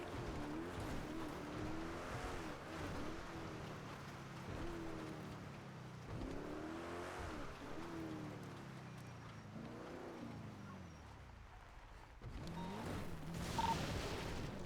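In a GTA NoPixel roleplay, a Glendale car drives along with its engine surging and easing in repeated waves, moderately loud, ending in a louder rush of noise.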